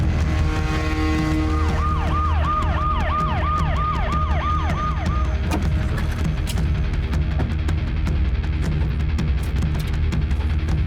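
An ambulance siren wails loud and close in a rapid repeating rise-and-fall, running for several seconds before it stops and leaves busy traffic noise behind.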